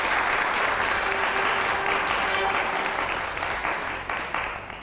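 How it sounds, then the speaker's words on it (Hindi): Studio audience on an Urdu television talk show applauds loudly and steadily, a thick, continuous patter of many hands that eases slightly toward the end. "भैया एक दफ़ा और तालियां बजाएं आगा साहब के लिए"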